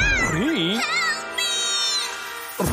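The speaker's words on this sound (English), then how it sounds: "Meow!" A cartoon cat voice gives a drawn-out, wavering meow, loud and close, with a cartoon-style voice and music underneath.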